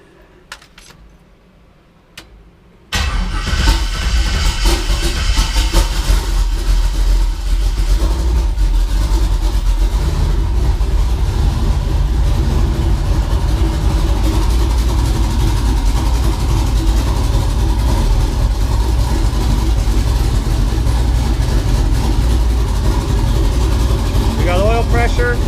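A budget twin-turbo LS engine fires on its first start-up after a quiet few seconds of handling noise, then settles into a loud, steady, rumbling idle that runs on for more than twenty seconds.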